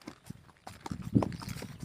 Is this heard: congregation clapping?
no